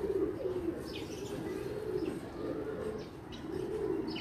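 A two-year-old pigeon coos steadily and close by, a low repeated rolling call, with faint chirps and a brief flutter of wings in the background.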